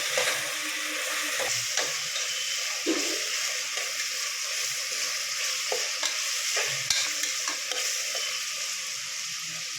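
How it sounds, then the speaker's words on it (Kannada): Onions and green chillies fry in a pan with a steady broad sizzle, while a spoon scrapes and stirs through them in irregular knocks and shuffles. No voices. "ಈಗ ಏಳೆಂಟು ಮೆಣಸಿನ್ಕಾಯಿ ಹಾಕೋತಾ ಇದ್ದೀನಿ ನೋಡಿ ಹಾಕ್ಕೊಂಡು ಚೆನ್ನಾಗಿ ಫ್ರೈ ಮಾಡ್ಕೋಬೇಕು"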